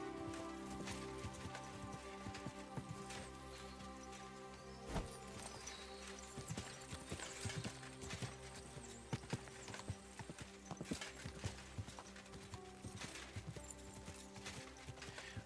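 Horse hooves clip-clop in the medieval video game Kingdom Come: Deliverance II, a steady run of faint, irregular hoof knocks under a soft rain-like hiss, with no talk.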